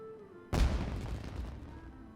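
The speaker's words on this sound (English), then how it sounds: "It sounded like fireworks." Fireworks burst in a video game scene: a single sudden loud boom followed by a crackling, rumbling decay over a couple of seconds, with no voices.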